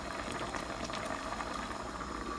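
Mutton curry with tomatoes simmers in a pot with steady, soft bubbling and gentle sputtering that continues without pause.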